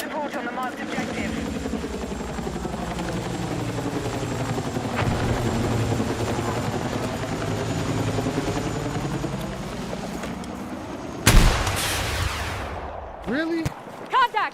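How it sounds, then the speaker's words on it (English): Enemy helicopter in a military video game battle: a steady, loud rotor drone runs throughout, with bursts of gunfire and sharp impacts breaking in near the end. "Contact! Enemy helicopter!"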